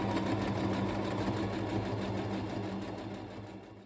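A sewing machine stitching a kimono jacket runs steadily with a fast, even mechanical whir, close by, slowing and fading slightly toward the end.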